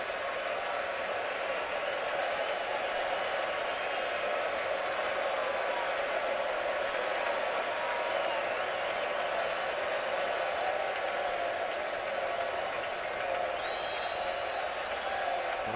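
Baseball crowd at a Kansas City Royals home playoff game against the Angels, a sustained, dense roar of many voices chanting Billy, steady and loud throughout with a broad wash of cheering.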